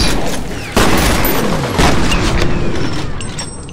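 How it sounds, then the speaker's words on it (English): Enemy gunfire in the first-person shooter F.E.A.R. comes as loud bursts of rapid shots with booming impacts, the strongest at the very start and again near the middle, then fading slightly toward the end. "The second motherfucker shooting at me somewhere."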